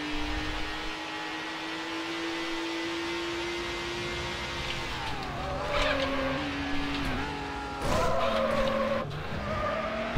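Mercedes CLK race car in a Need for Speed online race, engine droning steadily before shifting pitch as the tires skid and squeal through drifts, with several screeching bursts toward the end.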